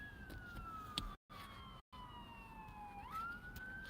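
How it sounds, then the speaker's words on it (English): A wailing emergency vehicle siren sweeps down in pitch and then climbs again, with a steady drone underneath and two short dropouts. "I hear the sirens."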